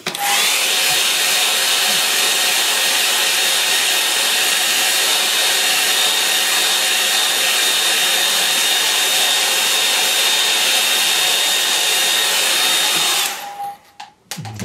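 A hair dryer blowing steadily on a watercolour painting, a loud continuous hissing roar at close range that holds evenly for about thirteen seconds before cutting off abruptly.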